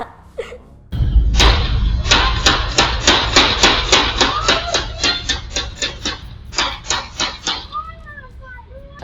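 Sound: gunshots

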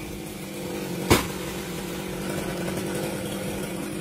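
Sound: chainsaw cutting a coconut tree

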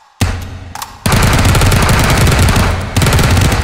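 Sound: gun firing rounds in H3VR video game

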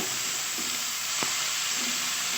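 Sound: greens frying in pan

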